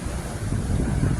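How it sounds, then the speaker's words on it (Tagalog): Strong wind at a windmill site in Pililla, Rizal, roaring and buffeting the microphone in a steady low rumble, with no voices. "Lakas ng hangin"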